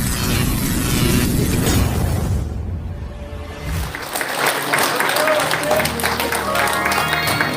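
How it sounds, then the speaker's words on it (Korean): Loud audience applause fills a crowded hall at a politician's book launch event, with dense clapping that continues steadily throughout and a voice speaking over it in the middle. "여러분 우리의 윤석열을 힘찬 박수로 건드리십시오"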